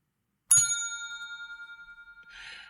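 A single bright timer bell dings once and rings on, its clear tone slowly decaying, with a faint rustle near the end.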